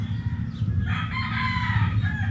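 A rooster crows over a flock of farm chickens, one drawn-out call rising clearly above a steady low hum that runs throughout.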